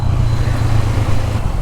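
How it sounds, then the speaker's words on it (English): A 2021 Honda 500X motorcycle's deep engine drone rumbles continuously, loud and close, with a low throbbing exhaust tone and no speech. "the exhaust note is awesome"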